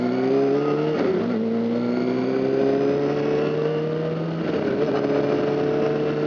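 A motorcycle engine revving while being ridden rises steadily in pitch, drops briefly with each gear shift, and stays loud and close the whole time, with no talk.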